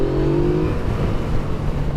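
Yamaha XSR 900 motorcycle engine pulling hard under throttle during a road ride, a steady loud drone with a rising tone early on and wind rush throughout.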